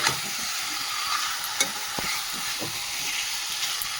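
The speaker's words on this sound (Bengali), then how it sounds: "মাংসটা এবারে কষাতে থাকি, জল বেরোবে।" Meat sautés in a hot pan with a continuous sizzle while a utensil stirs and scrapes through it in irregular, close strokes.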